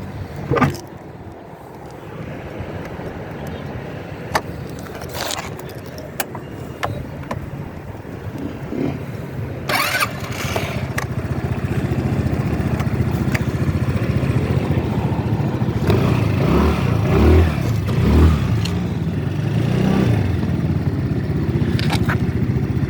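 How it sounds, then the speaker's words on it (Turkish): A Volta APEC 125cc motorcycle engine starting and revving, with scattered clicks and knocks early on, then a steady, louder engine drone that builds and holds through the second half. "Motoru bayağı güçlü arkadaşlar. 125'lik."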